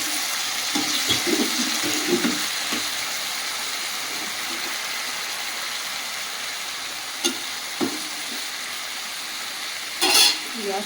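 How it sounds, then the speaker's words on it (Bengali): Cut potatoes fry in a pan with whole cumin seeds, a constant hissing sizzle with occasional clinks and a burst of clatter near the end, and soft talk at the start. "কেটে রাখা আলুগুলো দিয়ে দেবো।"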